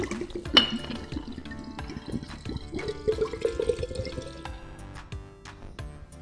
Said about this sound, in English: let's pour in our White Dog Mash 1